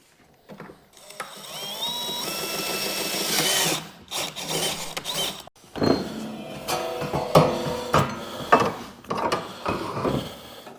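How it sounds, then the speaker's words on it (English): A power drill whines and stops in several bursts, drilling out bolt holes for an auger on a John Deere, interspersed with metallic clatter and ratcheting mechanical noise nearby. "now we're just drilling out the bolt holes to put the auger back in"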